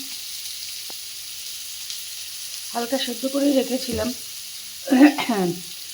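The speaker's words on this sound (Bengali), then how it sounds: "এখানে একটুখানি আলু ভাজা বসিয়ে দিলাম" Lightly pre-boiled potatoes frying in a pan, a soft steady sizzle running under a woman's speech that comes in two short bursts.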